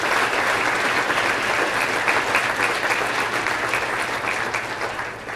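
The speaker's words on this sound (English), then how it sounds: "give all those folks a huge round of applause" A breakfast event audience gives a big round of applause: steady, crowded clapping with a low hum underneath, continuous and fairly close, easing off a little at the end.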